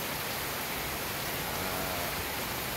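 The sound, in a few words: heavy rain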